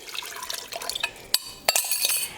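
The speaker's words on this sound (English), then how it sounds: "Now we're going to pour the sauce that we just made over the chicken." Homemade orange sauce pours from a container over chicken and onions inside an Instant Pot, a wet splashing trickle with a few sharp clinks of glass or metal.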